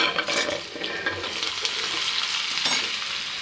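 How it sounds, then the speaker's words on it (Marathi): Asafoetida and chilli pieces sizzle hard in hot oil for a tempering, with a loud, dense, continuous crackle and spatter plus light stirring, close by and alone. "खूप सुंदर फोडणी तयार झाली आहे"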